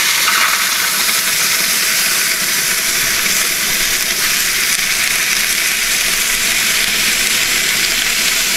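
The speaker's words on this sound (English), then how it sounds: "I'm going to pour some hot water in this water reservoir" Hot water pouring into the water reservoir of a Weber kettle grill with a slow and sear insert, a steady loud hissing rush lasting several seconds, with no talking.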